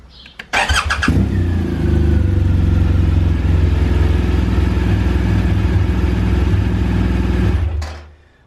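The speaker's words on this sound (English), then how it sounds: "all you do is press it and it will start the engine" A motorcycle engine cranks on the electric starter and catches, then settles into a loud, steady idle close by before cutting off.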